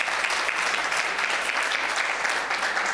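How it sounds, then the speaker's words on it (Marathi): Strong, sustained applause from an audience after a classical vocal performance by three singers at a Dasnavmi festival concert, dense and steady clapping throughout with no voices. "निषाद व्यास, कार्तिक स्वामी आणि माधव लिमये तिघांसाठी जोरदार टाळ्या होते।"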